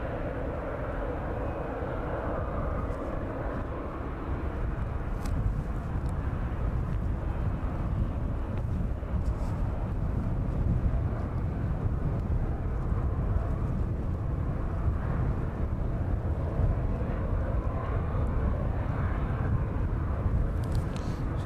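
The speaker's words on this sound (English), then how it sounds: "the Jet 2 service from Lanzarote. That one on its final approach into East Midlands this evening." A Jet2 airliner from Lanzarote on final approach into East Midlands airport in the evening, a steady low engine roar held for the whole stretch, moderately distant with wind buffeting the microphone.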